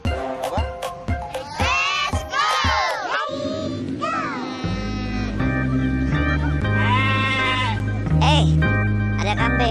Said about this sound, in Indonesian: Ada kambing, kambingnya siapa itu ya?